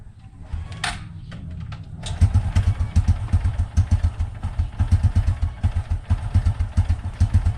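A Honda XRM 125 carburetor-type motorcycle engine in cold weather catches after a few clattering attempts and settles into a loud, close, rapid chugging idle.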